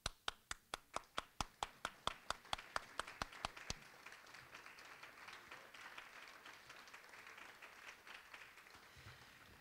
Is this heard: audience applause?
yes